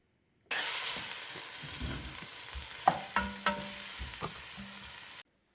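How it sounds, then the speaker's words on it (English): Onions and jalapenos sauteing in a pan, a close steady sizzle broken by a few sharp utensil clicks and stirring scrapes, with no talk. "we're going to add in the onions and the jalapenos. And we're going to saute that for about 3 to 4 minutes"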